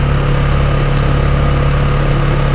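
Engine noise from an ATV on a trail ride, captured by a helmet-mounted microphone; a loud, steady low drone with an unbroken hum throughout and no talking.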